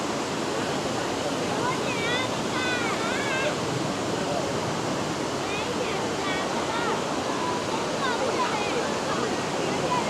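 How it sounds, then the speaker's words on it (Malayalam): Wulai waterfall in Taiwan, a tall cascade, gives a steady, dense roar of falling water that stays constant and close throughout, with faint bird chirps sounding above it. "അത്യാവശ്യം നല്ല ഹൈറ്റിൽ നിന്നുള്ളൊരു വെള്ളച്ചാട്ടമാണ്"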